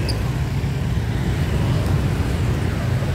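Evening street traffic in Ho Chi Minh City, Vietnam, a continuous low rumble of passing vehicles near a main square lined with shops, steady and fairly loud.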